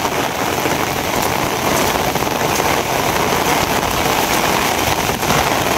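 Heavy rain pours steadily beside a river bank, a dense, constant hiss of drops on surfaces that holds at the same loud level throughout with no voices.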